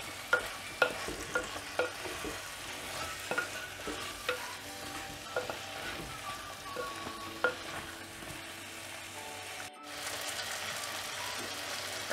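Eggplant and drumsticks sauté in a clay mud pot, with repeated spoon clacks and scraping strokes over a low, steady sizzle. The stirring is close and rhythmic, and a brief quiet gap comes near the end.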